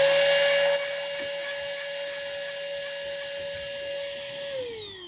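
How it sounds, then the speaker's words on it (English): A Ryobi rechargeable portable electric vacuum cleans a reverse-cycle air conditioner with a steady, high-pitched motor whine that holds constant, then winds down with a falling pitch as it is switched off at the end. "reckon an electric portable vacuum is much easier"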